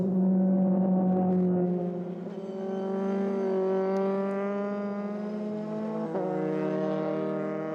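A Euroformula Open race car accelerates in 2018 qualifying at the Hungaroring, a loud, close, steady engine whine climbing in pitch with a brief shift break late on.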